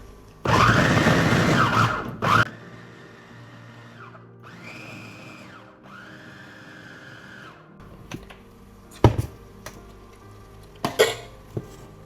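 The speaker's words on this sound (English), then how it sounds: "So I'll just pour it in here and mix it." A small electric blender whirs loudly in short bursts while mixing fura da nono in a container, then gives way to quieter humming and a few sharp knocks and clatters.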